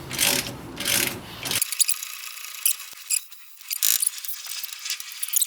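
Homemade tool driven by a ratchet with a 9/16 half-inch drive socket pushing an axle through during an engine removal on a Honda Acty, giving short bursts of ratcheting clicks and metallic creaks between brief pauses, close up.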